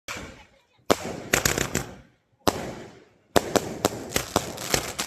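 Diwali firecrackers in a village burst in sharp, loud crackling volleys, two clusters of rapid bangs separated by brief silences.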